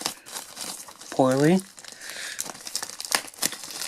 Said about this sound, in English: It's just gonna rip on open.